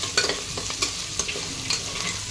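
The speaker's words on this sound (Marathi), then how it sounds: "काजू पण आता छान परतवून घेऊया" A handful of cashews sautés in a pan with shahjeera and onion for a mixed vegetable pulao, a soft steady sizzle broken by scraping stirs of a spoon, close and clear with no talking.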